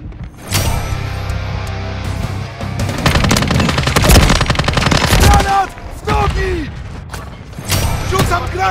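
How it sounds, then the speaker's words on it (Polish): Gunfire from Call of Duty: Modern Warfare 3 team deathmatch, with sustained loud automatic bursts, sharp single shots and metallic mechanism clicks, close and dense, and brief game voice callouts between. "Strzelają do mnie!"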